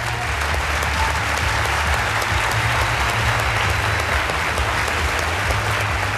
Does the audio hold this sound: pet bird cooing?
no